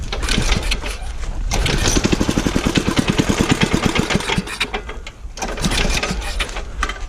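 A go-kart's small engine sputters, then catches and runs with a rapid, loud, close putter, dropping off briefly before revving back up, with no talking over it; the engine has a makeshift sponge air filter and blow-back through the valves.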